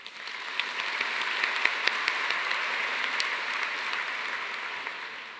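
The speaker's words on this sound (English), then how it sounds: "Please give yourself a big round of applause" Audience applause at Portland State University's College of the Arts 2022 commencement ceremony, a steady, sustained wash of clapping from a large crowd with a few sharper individual claps standing out, no voices.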